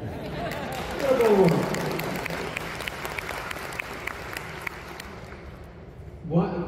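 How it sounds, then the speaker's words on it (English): A round of applause from a convention crowd, steady clapping that swells early then slowly fades, with someone speaking over it. "Is that a round of applause?"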